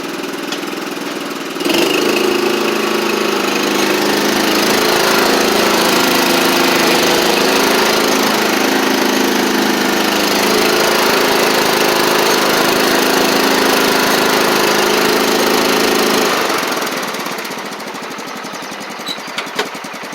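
A John Deere LT150 lawn tractor engine cranks up and runs steadily at a loud, even drone for about fifteen seconds, then drops back toward idle, close by with no talk.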